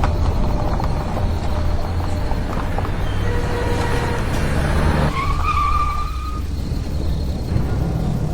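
A car brakes and skids to a stop at night, tyres squealing briefly over a loud, steady engine and road rumble that continues after the screech.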